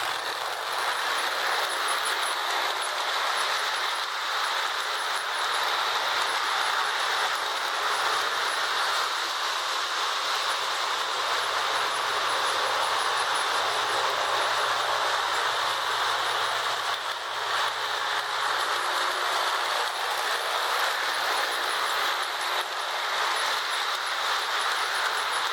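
A Marx 21 diesel toy model train runs on its track in a steady, unbroken mechanical whir with a hiss of wheel noise, close and constant throughout, with no voices.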